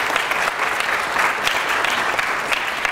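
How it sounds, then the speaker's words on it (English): Steady, loud applause from a crowd at a 2012 presidential campaign panel discussion, dense clapping sustained throughout without pause. "let's give another round of applause for our experts"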